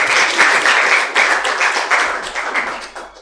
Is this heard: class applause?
yes